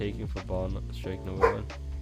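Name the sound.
dog barking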